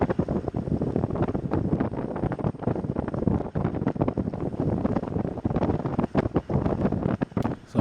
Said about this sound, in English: when you're moving, you're going through wind